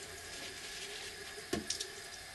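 Warm tap water runs steadily into a basin in a catheter-care setting, a quiet continuous wash of flow with a couple of small clinks near the end.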